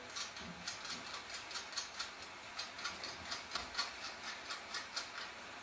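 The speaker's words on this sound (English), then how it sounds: "We just tighten in the bracket now. We tighten in the brackets on the back" Bolts on a satellite dish wall bracket tightened with a ratchet: a steady run of quick, faint clicks in an even rhythm, close by, with no talk.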